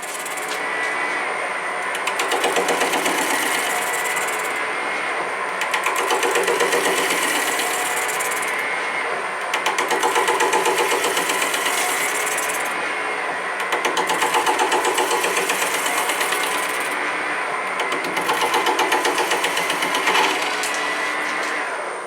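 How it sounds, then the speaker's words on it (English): A lathe trims a polyurethane bush ring mounted on a mandrel, giving a steady, loud mechanical whir with a high buzzing edge that rises and falls in repeated cycles of a few seconds, close up and without voices. "Then the ring and mandrel were mounted on the lathe and trimmed to length."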